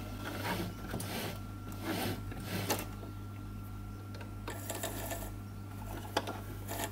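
A sewing machine stitches along the edge of quiet book pages without thread, faint bursts of mechanical whirring and clicking over a low steady hum.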